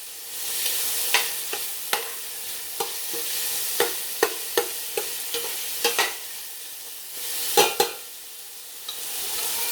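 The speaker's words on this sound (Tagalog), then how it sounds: "Continue nyo lang na igisa ang inyong meat hanggang sa maging golden brown." Pork sautés in a pan toward golden brown, a continuous sizzle broken by a dozen or so sharp scraping strokes of a spatula, some louder, heard up close with no talking.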